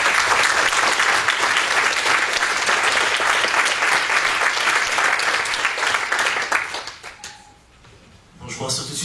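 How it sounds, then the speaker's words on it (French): Loud, dense audience applause fills a hall at a Swiss community managers' event, holding steady for about six seconds before thinning out, with a few last claps at the end. "un tonnerre d'applaudissements pour Yann Long et la magouille."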